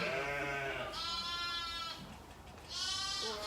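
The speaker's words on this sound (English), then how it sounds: "Here's number 5, our oldest sheep." An old ewe on a farm bleats in two long, loud, wavering calls close by, with a short pause between them and no talk over them.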